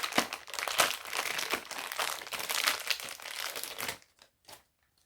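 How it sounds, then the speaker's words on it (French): Crinkling and crumpling of packaging as an NMA charger for an Amewi KL07S RC car is unwrapped, a steady close rustle for about four seconds followed by a couple of faint rustles. "le chargeur NMA, je le montre, je vais le déballer"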